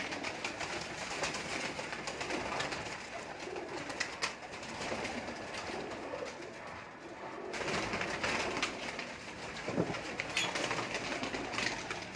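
A flock of pigeons coos continuously for several seconds, a steady, moderately loud murmur of many birds with no speech.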